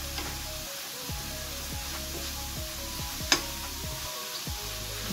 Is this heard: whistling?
no